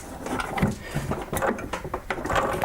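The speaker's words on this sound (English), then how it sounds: "So I'm going to turn this miter saw to 45 degrees" A miter saw is turned to a 45-degree angle with a short stretch of clunky metallic rattling and scraping, close by.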